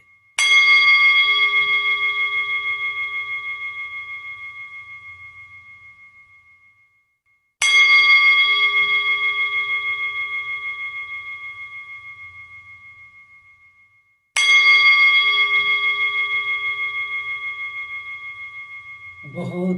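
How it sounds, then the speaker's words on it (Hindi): A meditation bell is struck three times at even intervals, each clear ringing tone sustaining and slowly fading before the next strike, heard close and alone in a quiet space during nada meditation. "बहुत ही गहराई से घंट नाद को सुनते रहिए।"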